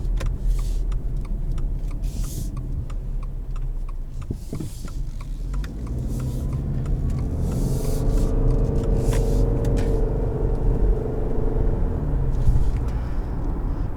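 A 2020 Subaru Outback Limited XT with a turbo engine and CVT transmission cruises along, a steady low cabin rumble with road noise that swells as it gains speed, with no talking.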